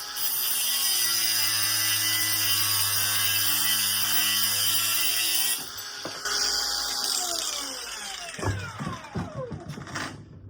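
A 4.5-inch angle grinder cuts through a metal bracket with a loud, steady high whine for several seconds, then drops in pitch and slows with rattling clanks as the cut finishes.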